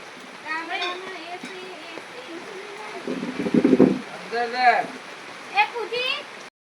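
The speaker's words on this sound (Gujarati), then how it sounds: "વરસાદ ચાલુ છે અત્યારે" Steady rain falls over farmland in Santrampur with ripening paddy, a constant soft hiss running under someone talking throughout.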